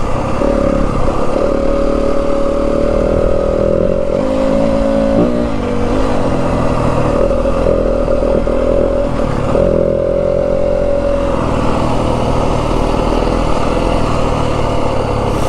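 A 2025 Yamaha WR250F dirt bike engine revs continuously while riding rocky trails in Arizona's Santa Rita Mountains, rising and falling in pitch with throttle changes, loud and close throughout with no talking.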